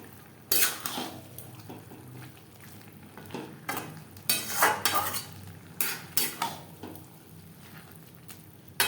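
Banana flower curry (mochar ghonto) cooking in a pan with gravy, with metal utensil scrapes and clatters against the pan over a soft sizzle, irregular stirring strokes close up, no talk.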